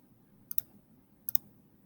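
Calculator keys tapped in two quick double clicks, sharp and close, separated by a short pause, with no talking.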